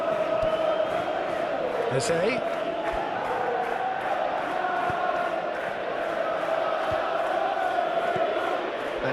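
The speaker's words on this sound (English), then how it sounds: "it's good to see that the crowd appreciate his efforts" Stadium crowd noise from a simulated Champions League football video game between Atletico Madrid and Arsenal, a steady broad roar of fans applauding a substituted player, running the whole time beneath a commentator's voice.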